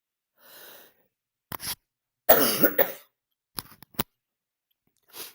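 Several separate coughs, sharp and close, come in short bursts with silent gaps between them, including one longer, rougher coughing fit.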